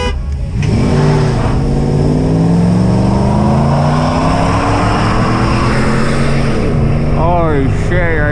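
Ram Hemi pickup truck accelerating toward top speed, a loud, close, continuous engine roar whose pitch climbs steadily through the gears, with muffled voices inside the cab.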